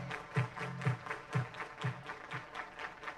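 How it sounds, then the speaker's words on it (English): Rhythmic hand clapping from a crowd at a college softball game, Ole Miss vs Texas, about six claps in a steady beat with a loud tonal voice or PA underneath. "Everybody clap your hands."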